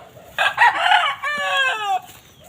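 A young rooster (stag) at a chicken farm in Barangay Kaingin gives one loud, close, hoarse crow lasting about a second and a half, over quiet farmyard background. No voices.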